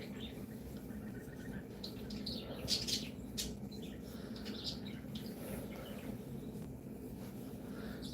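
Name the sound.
birds chirping outside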